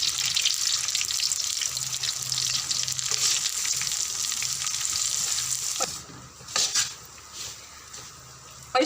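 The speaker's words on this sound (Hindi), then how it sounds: "जब तक हमारी सूजी भून हो रही है" Semolina roasting in desi ghee for halwa, a steady close sizzle and frying hiss for most of the time, then a few scraping stirs and clanks as it quiets near the end.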